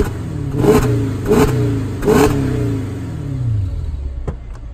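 A Mercedes CL500 V8 is revved three times in quick succession, each deep, loud burst rising and falling before a longer settling idle rumble, with a couple of sharp clicks at the end.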